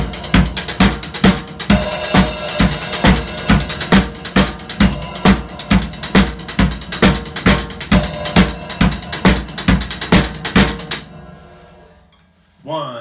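A drum kit plays a 7/4 groove, a bar of four followed by a bar of three, with a driving kick, snare and cymbal pattern, loud and close, before cutting off near the end.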